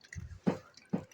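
Tamarind water poured into fuchka (pani puri) gives a few short wet drips and squishes, two distinct splashy bursts close by over a brief quiet stretch.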